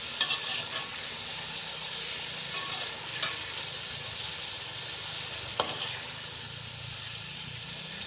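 Chicken tikka sizzles steadily in a karahi as spices are stirred through it, a continuous close frying hiss broken by occasional sharp scrapes of the spoon against the pan.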